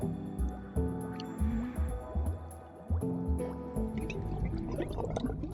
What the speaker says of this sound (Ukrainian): Водичка.